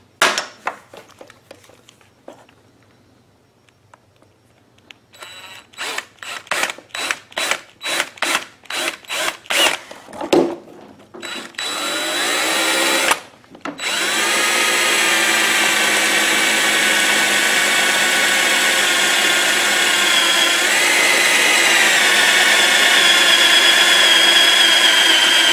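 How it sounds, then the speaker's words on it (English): A power drill bores a hole while a wireless remote control is installed on an Echo BearCat 3500. A run of short, stuttering trigger bursts gives way to a loud, sustained, close motor whine. "So that's why you need to drill it down here."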